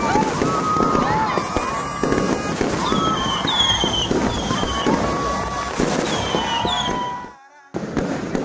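Year-end fireworks bursting at a celebration in Nusa Tenggara Timur, Indonesia, with repeated crackling pops and whistling rockets over steady crowd and wind noise, briefly cut near the end.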